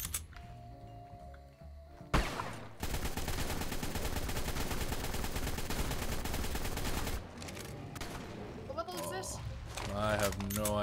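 Shotgun blasts from ARK: Survival Evolved combat against a Rex, loud and dense, layered with game noise and bursts of activity across most of the stretch, with talk over it.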